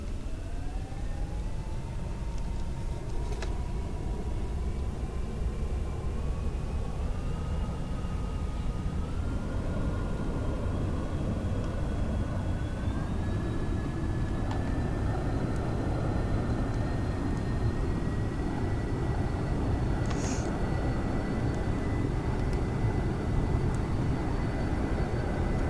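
An SR-71 Blackbird takes off in Microsoft Flight Simulator, a steady roaring jet engine drone with a slowly rising whine as it accelerates down the runway, continuous and even throughout.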